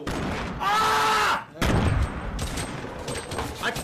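Bursts of rapid video game gunfire crackle loudly, broken by a short pause, with a few sharp tonal effects and background game noise.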